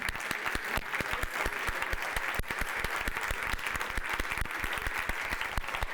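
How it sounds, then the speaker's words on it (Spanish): Audience at a human rights conference applauding the panel speakers, sustained even clapping from a crowd that continues steadily throughout, heard from a little distance. "pido un aplauso para ellos grande"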